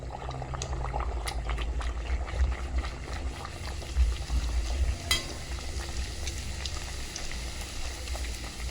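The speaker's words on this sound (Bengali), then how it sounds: "এরকম করে একটা একটা করে সবগুলো ভেজে নেব।" Peas kachori are deep-fried one by one in a pan of hot oil, giving a continuous close bubbling sizzle with occasional faint clinks of a utensil.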